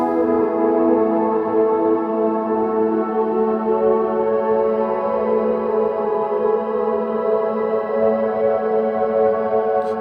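An electric guitar picked very lightly through a reverb pedal rings out as a sustained, washy drone of layered tones, steady and close for the whole stretch with no voice.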